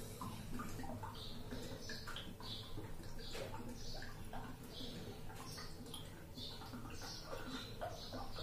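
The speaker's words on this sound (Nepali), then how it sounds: "कति बिस्तारै खाली भएको कि पानी" Water drains slowly from the tub of an LG top-loading washing machine during tub cleaning, a steady close wash of trickling and gurgling with scattered small drips and ticks that runs the whole time.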